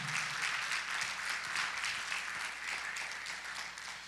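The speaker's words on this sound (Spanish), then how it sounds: "dele palmas al Señor" A church congregation claps along during a sermon, giving steady, dense applause that carries on through the whole stretch, somewhat distant and moderately loud, without speech.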